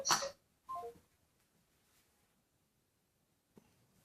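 A phone dials out to a device, with a couple of short electronic tone bursts at the start, then near silence before a faint blip near the end.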